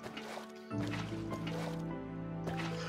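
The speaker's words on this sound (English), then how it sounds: "Water." Water is placed in the Minecraft video game, giving soft liquid splashing and dripping sounds in short bursts under a faint tonal background, quiet overall.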